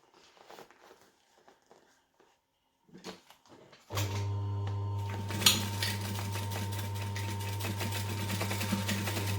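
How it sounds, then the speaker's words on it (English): A sewing machine runs steadily at close range, stitching back and forth at a 3 3/4 stitch length. It starts around the four-second mark after a few soft handling taps and then keeps up a continuous motor hum with a mechanical whir. "I'm just going to stitch back and forth across there with a 3 3/4 stitch length"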